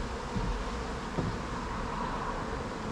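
Honey bees work the outer frames of an opened hive during a first spring inspection after winter, giving a steady, dense buzzing hum that holds close and even throughout with no voices.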